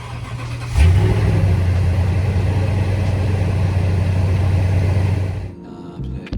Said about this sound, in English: let's fire up the Tundra